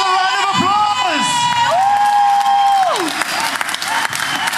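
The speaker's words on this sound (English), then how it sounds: "Let's give him another round of applause." A crowd at a Democratic Alliance political rally in eThekwini claps and cheers loudly, with whoops and high shouts riding over dense continuous applause for several seconds.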